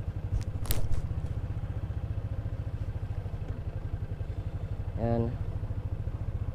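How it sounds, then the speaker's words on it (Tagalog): A motorcycle engine warming up at idle gives a close, even, rapidly pulsing putter that continues throughout, with brief clicks and a short scraping burst near the end, while someone speaks briefly. "Initin mo na yung makina."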